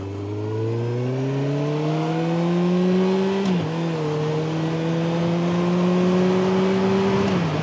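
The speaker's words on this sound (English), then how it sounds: "Oh, a second dump truck." A dump truck's engine drones steadily as it passes close by on the road, its low tone rising and shifting with a brief dip midway, loud and continuous with no talking.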